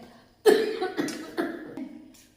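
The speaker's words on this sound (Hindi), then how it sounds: "अभी जब इसको खांसी लगी ना" A burst of four or five harsh coughs in quick succession, close and loud, each a little weaker than the one before.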